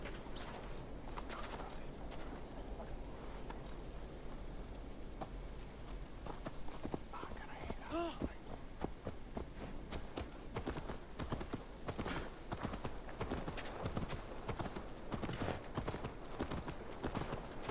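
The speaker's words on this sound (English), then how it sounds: "We're about to go drunk horse riding now." Steady rhythmic clip-clop of a horse's hooves at a gallop in Assassin's Creed Valhalla runs throughout, with faint bird calls and background ambience but no talk.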